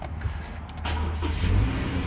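A 2020 Subaru Forester 2.5i's engine is started by push button, a short crank catching into a low, steady idle close by inside the car.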